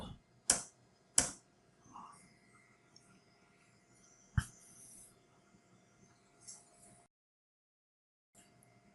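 A few isolated keystrokes on a computer keyboard, sharp and close, with sparse clicks spread over several seconds in a quiet room before the sound cuts out.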